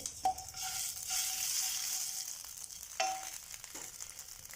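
Mustard seeds and ginger-garlic paste sizzling in a tablespoon of hot oil, a steady bright frying hiss with small pops and crackles up close, no talking.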